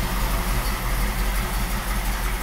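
A 1932 Ford coupe idles while warming up on a sunny day outdoors, its engine a steady, loud, even low-pitched rumble with a smooth continuous throb and no voices.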